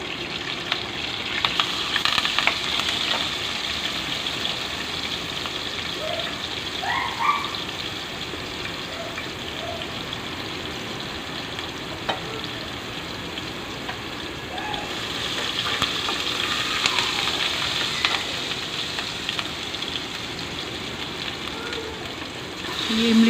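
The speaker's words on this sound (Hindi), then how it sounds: "हमारे पकोड़े भी फ्राई हो रहे हैं।" Pakoras frying in oil make a continuous, rain-like sizzle with soft crackles and occasional faint pops, held at a moderate level throughout.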